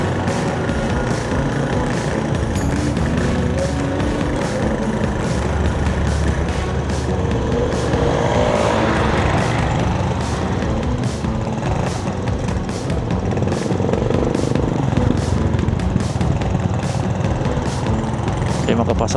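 Road traffic on a congested stretch through Santo Tomas on the Tagaytay to Tiaong, Quezon drive, with a steady rumble of cars and trucks moving slowly nearby. Voices talk intermittently over the constant engine noise.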